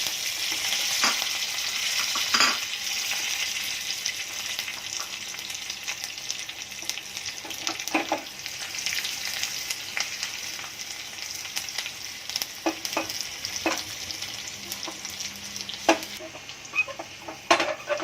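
Garlic and curry leaves hiss and sizzle loudly in hot oil, with occasional spatters, pops and a utensil stirring against the pan; no voices.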